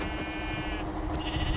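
A sheep in Minecraft mobile gives a short bleat over a steady, noisy game background, with no talking.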